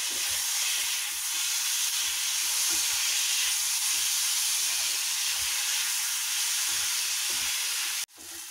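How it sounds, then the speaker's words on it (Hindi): Cabbage lightly frying in a pan for noodles, a steady, close broadband sizzle and hiss running almost continuously, with a brief clatter and drop near the end. "थोड़ा सा हल्का ही भूनेंगे बंधा गोभी को"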